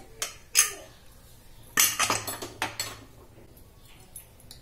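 A pressure cooker lid being opened after cooking black chickpeas, a few sharp metallic clanks and clinks of the lid against the pot in irregular bursts, fairly close, with no talking.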